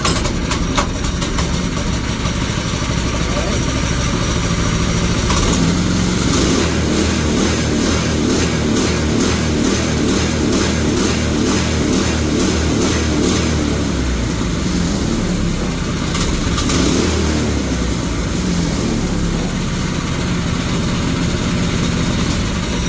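A racing kart engine rigged with a bicycle cable throttle runs indoors, its dense buzzing drone swelling through a rev partway in before settling back, loud and continuous for the whole stretch with no talk.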